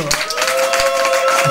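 A church congregation at a Christmas midnight praise and worship service claps and cheers, a short burst of crowd noise with a sustained sung or held tone running through it.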